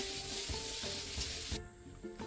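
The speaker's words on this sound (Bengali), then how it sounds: "এখন হলুদ নুন দিয়ে ঝিঙে আলুটা ভেজে নিচ্ছে" Ridge gourd and potato pieces frying in oil with turmeric and salt, a steady close sizzle with stirring scrapes, the hiss easing near the end.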